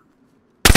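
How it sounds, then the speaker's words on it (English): Sudden loud burst of automatic gunfire in the DayZ video game, two close rapid volleys erupting after near silence. "Who was shooting?"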